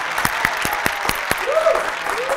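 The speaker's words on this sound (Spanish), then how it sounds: "Aplausos para Sami Sandra" A comedy monologue audience breaks into applause, with distinct claps ringing out in a loose rhythm and a brief whistling cheer near the end.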